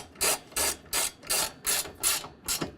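Ratchet wrench tightening a clamp bolt on a BAK Revolver X4TS tonneau cover fitted to a 2022 Toyota Tundra, making seven evenly spaced, crisp clicking bursts close by, with no talking.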